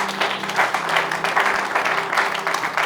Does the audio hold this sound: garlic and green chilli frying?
no